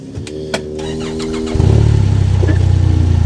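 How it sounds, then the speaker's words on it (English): A few clicks and a starter whir, then a Polaris Ranger utility vehicle engine catches and settles into a steady, loud idle rumble nearby. "If you want to start up the engine"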